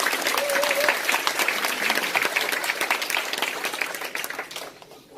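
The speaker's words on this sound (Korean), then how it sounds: "박수 한번 주실까요, 그냥?" An audience at a Korean motivational talk breaks into steady applause, dense clapping that holds evenly and fades out near the end.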